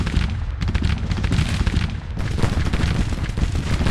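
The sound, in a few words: rifle fire in Grand Tactician: The Civil War video game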